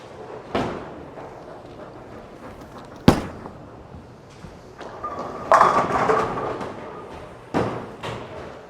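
900 Global Burner Solid bowling ball thrown on a fresh house shot at Sam's Town bowling alley: a sharp thud of the ball landing, a rolling rumble, then a loud clatter of pins, amid distant alley crashes.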